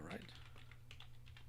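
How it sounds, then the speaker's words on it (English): A computer keyboard clicks in soft, quick keystrokes over a low background hum, with a brief voice-like sound at the start. "Sorry, typing out."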